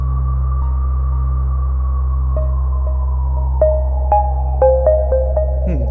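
A droning synthesizer pad holds a low tone while soft, bell-like notes appear one by one, gently echoing in a wide reverb.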